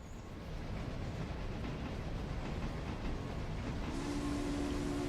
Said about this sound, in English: The noise the GP38's making this train is a little unpleasant.